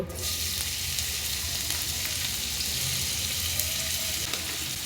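Chopped ingredients frying in oil in a pan for a sandwich filling, a steady close sizzle with faint stirring scrapes, continuous and without talk.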